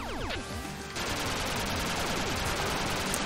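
Rapid gunfire from several guns in the video game Duck Game rattles loudly and without a break, a dense automatic burst layered with single shots and sweeping synthetic whines.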